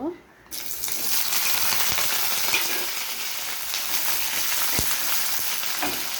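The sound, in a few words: onions added to hot oil, frying and sizzling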